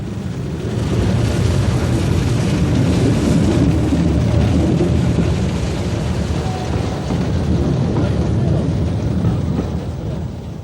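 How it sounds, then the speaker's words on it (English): A Class Y1 Sentinel steam locomotive on the Middleton Railway in Leeds runs flat out, a loud, steady mechanical roar and rumble that stays near and continuous throughout. "The engine is going flat out."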